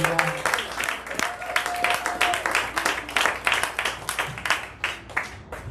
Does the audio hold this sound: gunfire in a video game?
no